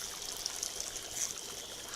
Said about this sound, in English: Ooh, that's bubbling. That's bubbling hard.